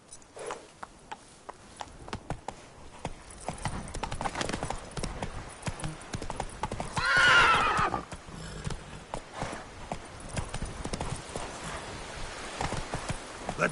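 Clip-clop of a horse galloping in the Witcher 3 video game, a steady rapid run of hoofbeats with a loud neigh partway through, set against a soft ambient bed.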